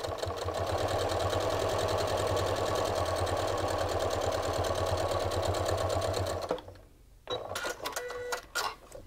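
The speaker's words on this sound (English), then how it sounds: "Then I'm going to feed this one through just to chain piece them." A sewing machine runs fast and steadily while chain piecing fabric, a loud close mechanical whir that stops abruptly, then a few clicks and a short burst of stitching.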